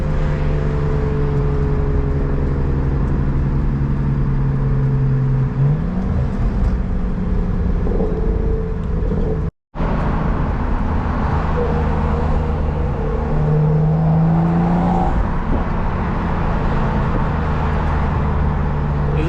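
Turbocharged BMW 440i with a B58 engine idling on a street, then revving in a couple of rising pulls, loud and close with a brief dropout midway.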